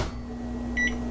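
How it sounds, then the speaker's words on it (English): A microwave oven runs while melting half a cup of butter, giving a steady close hum with a brief bright beep near the end. "cheating and using a microwave"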